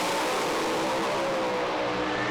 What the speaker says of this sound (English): Now they'll build the revs and just bump them into full stage.